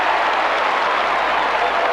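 Crowd at a 1990 Australian rules football match between Essendon and West Coast applauding a goal, a loud, dense, continuous roar of clapping and cheering that fills the whole stretch.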